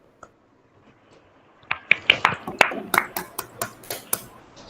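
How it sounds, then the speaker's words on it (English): Audience applause for a presenter at an English-language data engineering session, a burst of many hands clapping that rises sharply, then thins into scattered, evenly spaced claps before fading. "Give a clap for Sonia."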